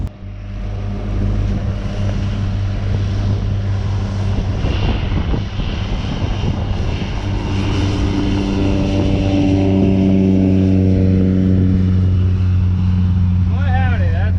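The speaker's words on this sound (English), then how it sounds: "a seaplane just passed in front of us, which is pretty cool." A seaplane takes off across the water in the San Juan Islands, its propeller engine droning steadily and swelling louder as it passes close by, with people talking over the noise.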